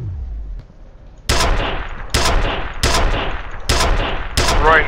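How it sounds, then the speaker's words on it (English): The bolt gun in the video game F.E.A.R. fires five loud, sharp shots at roughly steady intervals of under a second, each with a short ringing tail, after a brief quiet start. "What else we got? The bolt gun, I guess."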